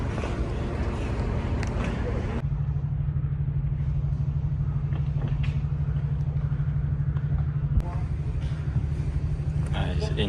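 Pagani Zonda supercar at the Goodwood Festival of Speed, a steady loud engine rumble held throughout with a brief jump near the end.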